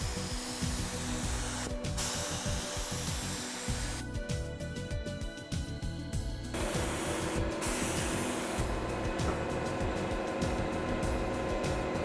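A spray gun applies Polycrylic finish to a wooden workpiece in a steady, close hiss that carries on through the whole stretch, broken by short bursts of harsher, brighter spray noise.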